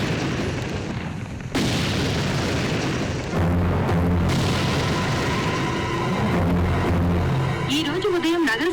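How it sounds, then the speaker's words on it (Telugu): A bomb blast explosion in a Telugu film, heard as heavy booming rumbles and a dense, loud roar that rolls on for several seconds, with voices and other soundtrack sound mixed in. "శివార్లలో జరిగిన బాంబ్ బ్లాస్ట్ తో నగరం మరొకసారి ఉలిక్కిపడింది."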